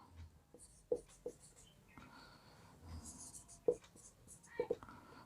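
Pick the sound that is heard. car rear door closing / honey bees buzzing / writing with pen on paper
writing with pen on paper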